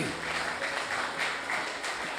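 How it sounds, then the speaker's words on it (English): A church congregation claps steadily during an evening service, a dense sustained patter of many hands at moderate volume, with faint voices mixed in. "Give another clap offering for our team tonight."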